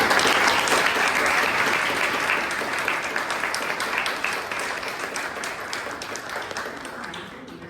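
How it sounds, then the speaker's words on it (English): Audience at a Toastmasters club meeting in Bangalore clapping, a dense burst of applause from a room of people that starts loud and slowly thins and fades over several seconds. "Let us give a round of applause for them."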